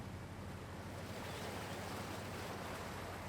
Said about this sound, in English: Water sounds out here.